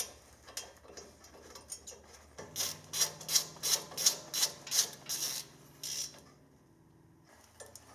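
A ratchet tightens a bolt on a Toyota Sequoia or Tundra front brake caliper, giving about eight quick, evenly spaced clicks close by during a quiet garage repair.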